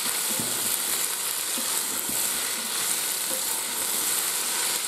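Philly cheese steak sizzling on saute mode in a Ninja Foodi, a loud, steady, dense frying hiss that runs throughout with no talking.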